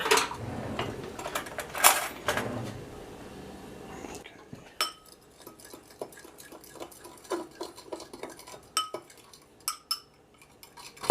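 A fork clinks and scrapes rapidly against a dish while stirring eggs with cold water, busy at first, then sparser taps and clicks continue near and clear.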